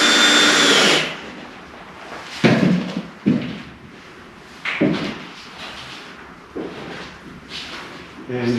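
Cordless drill driving 1-inch wood screws through a 2x2 support into a plywood shelf, a loud opening burst followed by several short separate whirring bursts with quiet pauses between them.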